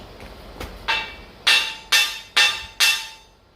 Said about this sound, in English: a tappy tap, hopefully with a hammer.